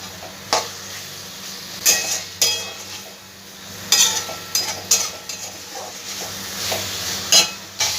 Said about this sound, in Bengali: চিকেনগুলোকে খুব ভালো করে আমি আগে কষিয়ে নেব